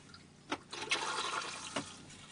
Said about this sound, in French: La chasse d'eau se situe ici.